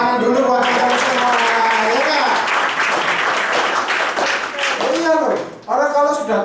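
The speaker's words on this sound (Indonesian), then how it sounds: "Tepuk tangan dulu buat teman-teman semua." Audience applause bursts out in a lively room, dense and sustained for several seconds, with voices talking over and around the clapping as it tapers off.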